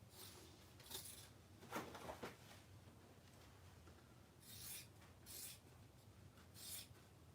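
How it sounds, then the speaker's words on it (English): Dull scissors in need of sharpening cut through fabric for a custom sewing order, giving quiet, scattered crisp snips and rasping slices, some in quick pairs, close by with no talking. "that is the sound of scissors that need to be sharpened."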